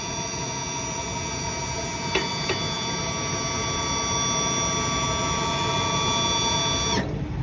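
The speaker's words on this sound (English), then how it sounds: "So quickly push the switch up and then hold it on the way down and allow the head gear to completely drop." A Boss snow plow's headgear lowers on a Smart Hitch 2 mount while the hydraulic pump holds a steady, loud electric hum for several seconds, with a couple of faint clicks midway and a sharp cutoff near the end.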